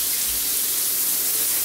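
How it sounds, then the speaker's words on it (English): Shower water runs steadily down a smart tile floor waste drain, a continuous close hiss of flowing water with no breaks. "you can turn on your water, make sure everything's flowing down the floor waste as it should be"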